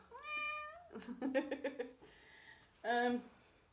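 A cat meows close by in a few separate calls with short pauses between them, the calls clear and moderately loud.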